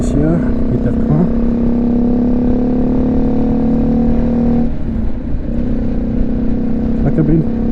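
BMW G310GS motorcycle engine droning steadily on the road with strong tonal hum and wind rush, a brief dip around five seconds before the engine note returns, continuous and close.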